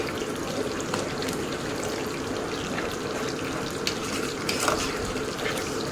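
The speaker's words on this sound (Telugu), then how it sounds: "ఇప్పుడు చింతపండు పులుసు వేస్తున్నాను దీన్ని కూడా బాగా కలుపుకోవాలి" Tamarind pulp goes into a simmering fish curry and gets stirred, making a continuous wet bubbling and sloshing with faint scraping, steady and close throughout.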